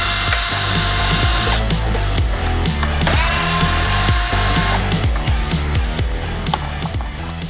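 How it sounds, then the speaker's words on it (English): A power driver backing four T15 Torx screws out of a Jeep Wrangler JK headlight, loud close whirring bursts with pitch sweeps, ratcheting clicks and short pauses between screws. "we're going to remove these 4 T15 Torx screws"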